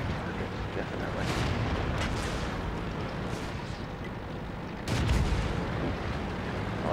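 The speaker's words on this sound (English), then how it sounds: "Well, I took a shot, but I don't think it managed to find its mark." Tank gun fire from an M4A3E8 "Easy 8" Sherman in World of Tanks, a deep booming blast over a constant rumbling battle din, with a second heavy thump partway through.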